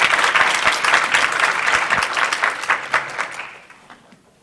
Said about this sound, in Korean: 여러분 큰 박수로 대사님을 맞아주시기 바랍니다